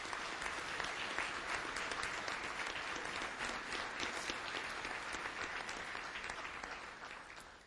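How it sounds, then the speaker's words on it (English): Audience applauding at a State of the City address, steady sustained clapping from a large crowd throughout, fairly distant and even, tapering slightly at the end. "Let's all give them a round of applause."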